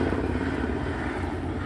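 A helicopter passes overhead, a steady broad engine and rotor drone that stays fairly loud and even throughout with no pauses, no voices over it.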